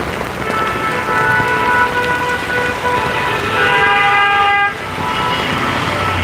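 Continuous rain falls on a busy Dhaka street as a steady wash of noise, with vehicle horns honking repeatedly over it at middle distance.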